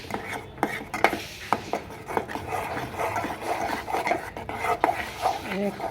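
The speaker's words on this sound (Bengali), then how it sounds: "ভালো করে নেড়ে নিয়ে হয়ে যাবে আমার ক্ষীর।" A spoon stirs khoya kheer in a pot, giving soft repeated scraping and tapping against the metal in an uneven rhythm, close and fairly quiet.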